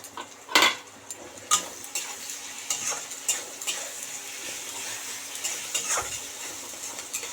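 Tomato, garlic and slit green chillies fry in hot oil for a tangra fish curry, with a close, steady sizzle. A spoon stirs and clinks against the pan in bursts. No one speaks.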